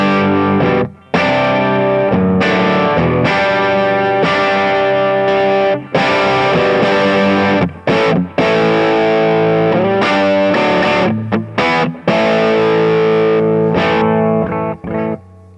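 Crunchy overdriven electric guitar plays sustained chords and riffs, loud and continuous, with a few brief pauses between phrases.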